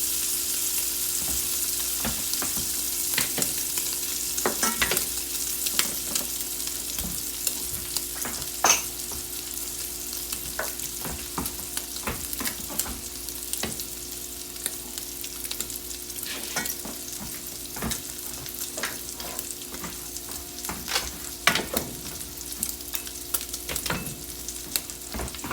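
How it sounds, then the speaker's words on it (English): Bacon renders in a single pan for jambalaya, a steady close crackling sizzle with frequent sharp pops and spatters running throughout, no voices. "We're rendering the bacon out, and we don't want to burn the fond at the bottom that we've developed"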